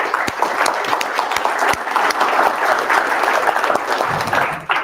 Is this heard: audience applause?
yes